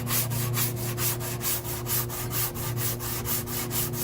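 Hand sanding across a 2003 Cadillac CTS driver's quarter panel, with light, even back-and-forth strokes in a quick steady rhythm over a low background hum, close up and without talking.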